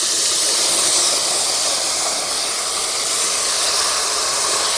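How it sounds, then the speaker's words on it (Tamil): Tamarind water hits a hot pan with a loud, unbroken hiss of steam and sizzle, close and steady throughout. "இதுக்கு மேலே கரைச்சி வச்ச புளி தண்ணி ஊற்றிக்கலாம்."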